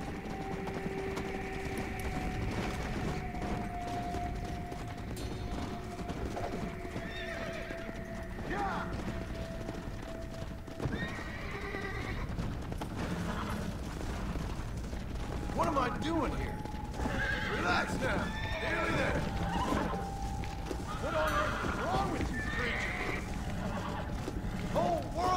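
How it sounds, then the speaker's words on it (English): A flaming horse in Red Dead Redemption: Undead Nightmare neighs and gallops, repeated whinnies and rhythmic hoofbeats over a sustained droning game soundscape, with a voice talking over it at times. "It's a flaming horse."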